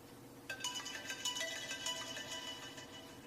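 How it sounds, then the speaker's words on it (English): An iPhone 7 ringtone plays a melodic electronic tune, faint and slightly muffled, over a low background hum, with the phone submerged in soda. "We're going to play a ringtone here."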